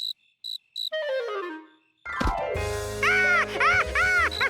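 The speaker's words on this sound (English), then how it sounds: "George set the cricket free to happily hop back to his cricket home." A cartoon cricket gives a few sharp high chirps, then a falling musical glide, followed by bright, warbling, tuneful chirps over a sustained background tone.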